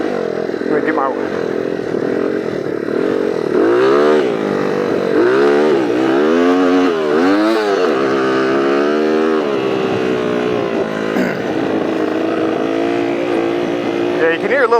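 Honda CR80 dirt bike being ridden at Lake El Reno, engine loud and near with rising and falling revs and a brief stumble, while a voice talks over it.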